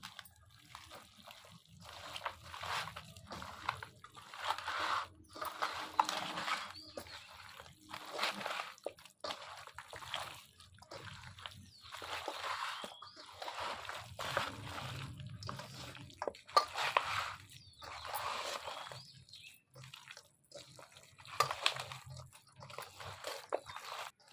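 Chicken pieces worked by hand with mustard oil, wet squelching, slapping and squishing sounds in continuous irregular rhythm, close and soft.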